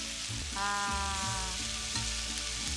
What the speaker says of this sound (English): So I'm gonna flip the nopalitos and potatoes.